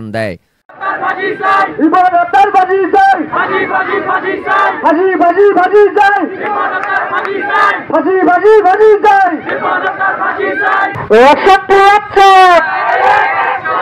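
Students at a human-chain protest on a road chant slogans in loud, rhythmic call-and-response, many voices shouting together in repeated waves, close and continuous.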